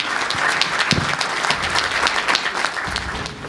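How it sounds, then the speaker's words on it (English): A keynote audience fills the hall with loud, continuous applause, a thick wash of many hands clapping for a few seconds. "Please give a big round of applause."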